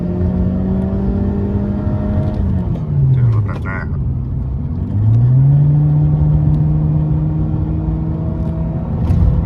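A Honda Civic FC with a 1.8 engine and twin exhaust revs steadily up and down in a tuning shop, its note dipping and climbing again, with someone talking over it.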